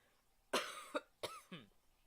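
A single person coughs several times in quick succession, close and loud, each burst harsh and short with brief pauses between.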